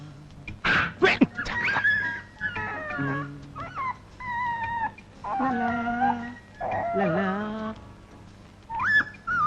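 A puppy whimpers and whines in a string of high, drawn-out cries, some rising into short howls, close by with brief pauses between.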